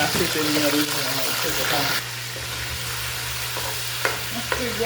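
Salted meat frying in hot oil for a Haitian rice, bean and eggplant dish: a loud dense sizzle that drops to a quieter steady fry, with a voice talking early on and a couple of clinks.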